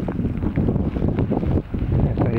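Strong wind buffets the microphone in continuous loud rumbling gusts, a low roar that barely lets up, on open steppe in a nature reserve in December.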